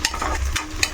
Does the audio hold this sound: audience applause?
no